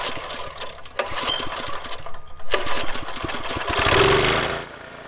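A reel lawn mower's small engine starting up and running with its air filter removed, a loud, steady mechanical chatter that climbs in pitch toward the end and then eases off.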